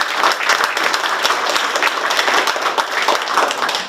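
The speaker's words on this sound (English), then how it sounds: "I think he deserves a round of applause for that" A crowd at a community meeting on a tax amendment applauds the governor, sustained, dense clapping from many hands at steady loudness, with no voices standing out.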